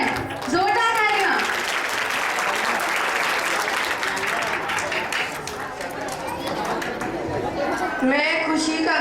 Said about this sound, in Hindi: ये जोरदार है, जोरदार तालियां।